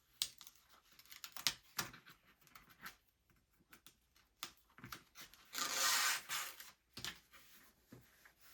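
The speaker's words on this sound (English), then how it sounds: "then we will take off our last large piece of score tape" A large piece of score tape being peeled off, with soft crackling pulls and rubbing rustles scattered throughout and one longer, louder tearing strip in the middle, close and with no voices.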